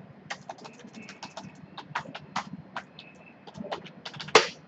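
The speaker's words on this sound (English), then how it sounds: "I know the password, so I'll type the exact password." A password typed on a computer keyboard while configuring Cisco networking gear: a steady run of close, crisp key clicks in uneven bursts, with one sharper, louder keystroke near the end and no talking.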